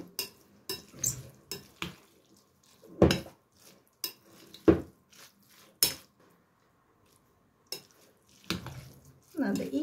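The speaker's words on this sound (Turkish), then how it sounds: "Bunları da karıştırıyorum." A spoon stirs and scrapes eggplant salad ingredients with parsley in a bowl, giving a series of irregular clinks and knocks with short pauses between them, fairly close and moderately loud.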